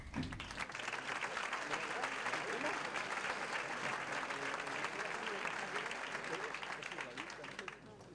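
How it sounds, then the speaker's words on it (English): A meeting crowd gives thunderous applause for the Vice President of Gambia before his address, a dense, steady roar of clapping that starts abruptly, holds at full strength and fades slightly at the end. "the Vice President received a thunderous applause before addressing the meeting"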